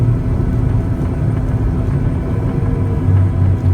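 Heavy low rumbling fills the cabin as a Ryanair Boeing 737-800 brakes with steel brakes on the runway after landing at London Stansted, steady and loud with no talking.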